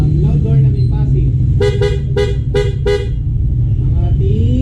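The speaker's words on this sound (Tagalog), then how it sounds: "Loud horn na may passing." An upgraded loud horn on an ADV motorcycle sounds four quick, close blasts in a rapid rhythm while the passing light flashes, with a low engine rumble before and after.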